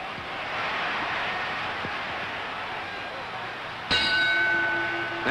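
A boxing ring bell clangs once with a bright ringing tone to end a round in a 1953 heavyweight fight between Roland La Starza and Rocky Marciano, struck over a murmuring arena crowd.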